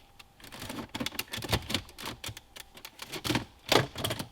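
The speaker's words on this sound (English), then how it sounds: "Take a pick tool, go right underneath the trim on both sides so you can pop the clips off so this will come right out." A pick tool pries under the centre console trim of a BMW G30 5 Series, popping the plastic clips loose in a quick run of close, sharp clicks and snaps with no talking.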